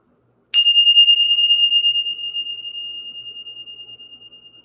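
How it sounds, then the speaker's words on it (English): A bell struck once during an energy-clearing ritual, a bright metallic ring that starts sharply and sustains a clear pure tone, slowly fading over several seconds against near silence. "We're going to ring the bell."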